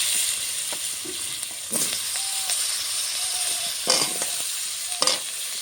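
Potatoes frying in a pan with salt and turmeric for a Bengali fish curry: a steady close hiss of hot oil, with a few brief spatula scrapes and knocks now and then.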